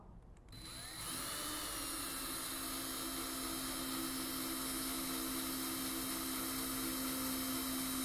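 A cordless drill, Stanley or Makita, bores into brass or iron at controlled low speed, giving a steady high whine that holds for several seconds, close and alone.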